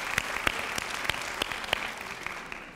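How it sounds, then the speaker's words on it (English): Audience at a symposium clapping in a moderate, slightly uneven rhythm of distinct claps, fairly faint and fading out toward the end. "you should applaud yourself"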